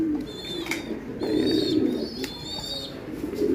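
Van den Broucke racing pigeons coo in a breeding loft, low rolling coos repeating in waves alongside occasional brighter chirps, heard close by without talking.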